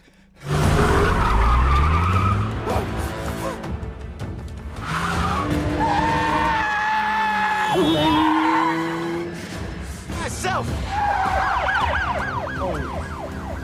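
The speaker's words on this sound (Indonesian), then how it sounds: "Mobil tersebut kemudian melaju dengan kecepatan penuh menuju sinyal Autobot tersebut." A car from a Transformers film races at full speed with tyres squealing through skids, the screeches rising and falling in long sweeping wails over a loud engine roar, layered with dramatic film sound.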